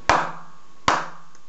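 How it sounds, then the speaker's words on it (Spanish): Two sharp hand claps about three quarters of a second apart, close and loud with short decays, used to trigger a homemade clapper light switch built on a PIC 12F683 microcontroller. "tenemos que aplaudir dos veces"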